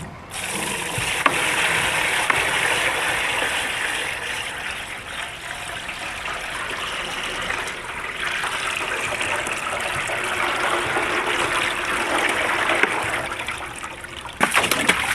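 Gold panning after a dredge sluice box cleanout: steady sloshing, swirling water with gravel and fine material, continuous and close, with a few sharper knocks near the end.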